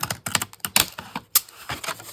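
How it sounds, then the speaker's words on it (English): Scissors snip and recut the edge of paper for a handmade journal, giving a series of crisp, close clicks and cuts in an uneven rhythm. "So I'm just going to take my scissors that I used and just recut that a little bit"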